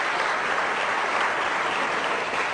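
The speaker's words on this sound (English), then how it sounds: "I'm glad that you applaud" A debate audience gives a dense, continuous wash of applause, even and unbroken for a couple of seconds at moderate loudness, with no voices standing out.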